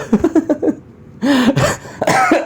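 A man on an Indonesian chat show coughs in a loud, close burst of several harsh hacks, following a short stretch of voiced throat sounds, the coughing fit itself dominating the moment.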